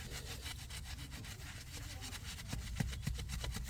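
A chemical-soaked cleaning tool scrubs back and forth across car wheel spokes near the brake caliper, making a steady rhythmic rubbing close by, with no talk.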